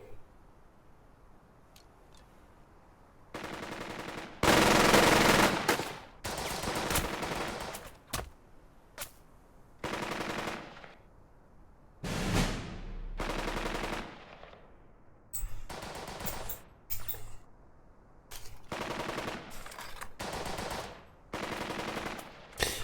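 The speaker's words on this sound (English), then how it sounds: "Oh, machine gun." Machine gun fire in the WW2 game Burden of Command, with loud repeated bursts of rapid automatic shots, some long and some short, separated by brief gaps.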